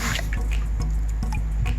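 Water sprays and splatters in uneven bursts, with irregular drips and squishy splashes close by.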